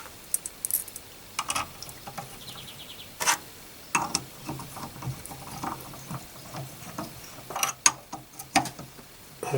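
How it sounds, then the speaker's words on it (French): Two cover screws being driven back into the steering rack of a 1954 Panhard Junior, heard as faint, scattered small clicks and light metallic ratcheting at close range in a quiet workshop. "je remonte les deux vis qui fixent le couvercle"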